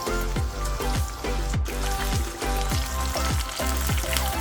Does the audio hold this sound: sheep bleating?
no